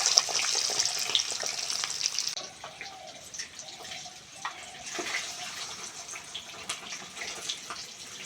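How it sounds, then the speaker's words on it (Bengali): Peeled boiled eggs fry in hot mustard oil with salt and turmeric, giving a steady, moderately loud sizzling hiss with faint crackles and no voices. "ডিমগুলো লাল লাল করে ভেজে নিয়েছি"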